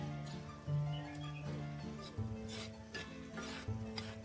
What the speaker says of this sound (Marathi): आता आपण वाटाणे भाजणार आहोत वाटाणे पण आपल्याला असेच थोडे थोडे टाकून घ्यायचे